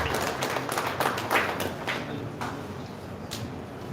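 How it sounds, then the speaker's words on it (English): Steady crowd applause for speakers at a talk fills the whole stretch, a dense wash of many hands clapping at fairly even loudness with a few sharper claps standing out. "give all of them a big round of applause"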